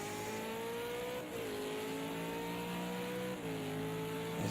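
V8 Supercar race car engine heard on board during a lap of Monza, a steady loud high-pitched drone with two brief gear-shift dips, continuous throughout.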